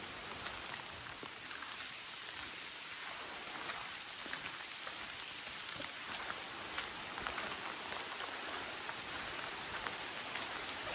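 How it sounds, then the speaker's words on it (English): Steady rain falls in the Red River Gorge forest, with scattered drops pattering on surfaces, a soft continuous hiss with no voices. "Rainy day in the Red River Gorge."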